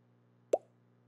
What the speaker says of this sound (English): kind of like the Facebook notification sound you hear when you get a notification.